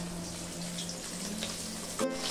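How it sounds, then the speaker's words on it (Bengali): Fish frying in a pan of oil on a home stove, a steady, gentle sizzle with no voices, and a brief clatter near the end. "মাছটা ভাজা হয়ে গেছে"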